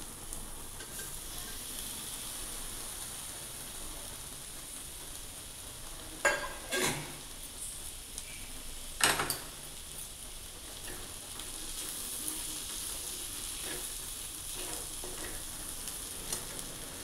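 Okra coated in gram flour and already fried is stirred in a pan, giving a steady soft sizzle with a few louder scraping stirs partway through and no talk.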